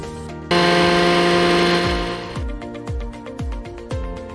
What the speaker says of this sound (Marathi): सगळं मी मिक्सरला लावून घेते।